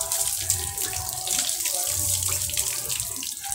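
Water from a tap pours steadily and close up while a dog is bathed, a continuous splashing rush that runs unbroken with no talk over it.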